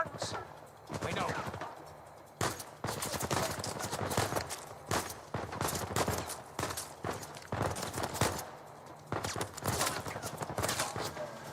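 Gunfire aimed at the player in Uncharted: Legacy of Thieves, with repeated sharp shots in irregular bursts, loud and close, mixed with game noise and a voice talking.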